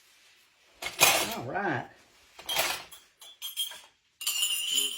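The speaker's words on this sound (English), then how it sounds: "Let me get some more spoons and put in there." Metal spoons clink and clatter against a dish in a home kitchen in several short, bright bursts separated by brief pauses, close by, with a voice speaking briefly.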